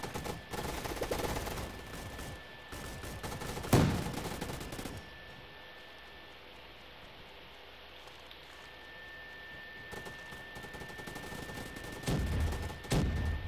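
Gunfire in the Roblox game Gunfight Arena, a few sharp shots near 4 seconds and again near 12 seconds over a steady hiss, with quiet stretches between.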